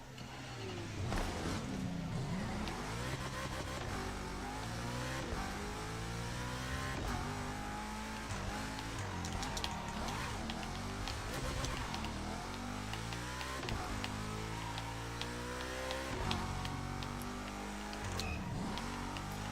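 A car engine in The Crew Motorfest revs and shifts steadily while driving, its pitch climbing and dropping through gear changes, loud and continuous for the whole stretch with no voices over it.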